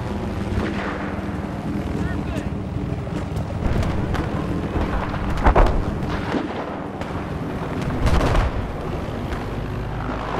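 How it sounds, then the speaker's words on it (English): Heavy gunfire and explosions rage in a Battlefield 4 firefight, dense rumbling booms and rapid shots layered continuously at close range, with louder blasts around the middle and near the end. "I'm taking a lot of heavy fire!"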